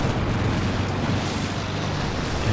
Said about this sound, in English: Once the heavy mortar shells start to land.